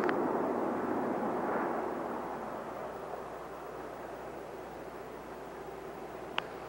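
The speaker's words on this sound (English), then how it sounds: "nose gear touchdown for Columbia as she rolls out on runway 17 left at Edwards Air Force Base" Space Shuttle Columbia rolling out on runway 17 left at Edwards Air Force Base after nose gear touchdown in 1989, a distant, broad, steady roar that slowly fades, ending with one brief sharp click.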